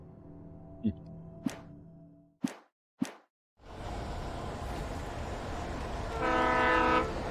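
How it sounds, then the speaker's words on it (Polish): A train in the Alan Wake video game: a few sharp clanks and a horn-like tone, then a loud sustained rumble of the train rolling past up close, swelling toward the end. "Pociąg."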